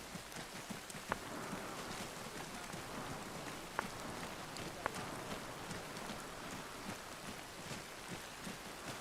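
Rain in the military shooter game Arma falls as a faint, steady hiss of patter across the whole stretch, with a few sharp isolated clicks over a low rumbling bed.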